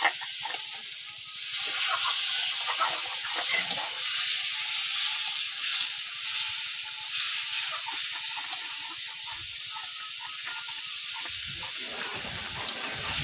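Water poured into a hot pan of pakal fish curry throws up a loud, continuous steamy hiss and sizzle, close by and steady throughout, with faint clinking underneath.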